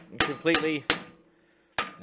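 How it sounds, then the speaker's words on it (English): A hammer taps around a metal horn part for a 2007 Dyna motorcycle: four sharp, close metallic strikes at uneven intervals, each ringing briefly, with a longer pause before the last. "just tapping it with the hammer like this all the way around it until I got it completely in"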